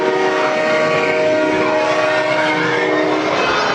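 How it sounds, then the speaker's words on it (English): A subway train effect roars through a haunted-house scene at Halloween Horror Nights Hollywood 2014, a loud, dense rumble with a sustained horn blaring over it throughout, no voices. "they had like this almost train that comes a little towards you and looks like it's gonna hit you"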